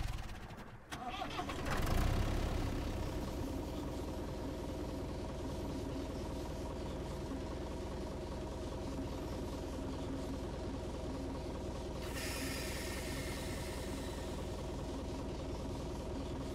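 A tractor engine in the Gas Station Simulator video game catches with a loud cranking burst, then settles into a steady, droning idle that runs on evenly at moderate level, with a brighter hiss joining near the end.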